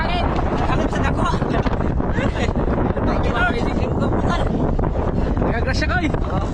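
Steady wind roars across the microphone out on open water, constant and loud, with a voice talking underneath.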